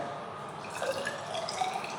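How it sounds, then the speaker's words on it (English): Distilled water trickles and drips steadily into a sample container, a soft continuous liquid sound with a few small splashes, close by and fairly quiet. "then add 100 ml of distilled water"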